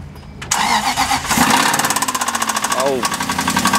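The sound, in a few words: Aston Martin V8 engine starting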